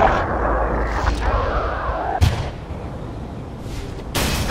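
Enemy gunfire from a gun position in Gears of War 3, heard as a steady roar of heavy firing with sharp bursts and booms breaking through, loud and close with no talk over it.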